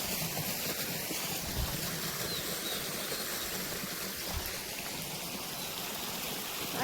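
Irrigation water flowing through a farm channel on an organic farm, a continuous rushing, trickling wash that stays steady and fairly quiet throughout, with no talk.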